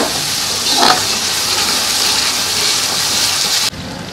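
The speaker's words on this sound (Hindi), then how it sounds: "थोड़ा सा ये पानी भी डाल देती हूँ।" Water poured into frying ginger, garlic and green chilli masala sets off a loud, steady hiss and crackle, continuous sizzling that cuts off sharply near the end.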